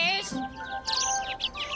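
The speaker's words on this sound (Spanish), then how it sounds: "¿no te parecen adorables las aves?" Cartoon birds chirp and tweet in a short burst of bright calls within a children's animated Bible story, with a voice speaking near the start.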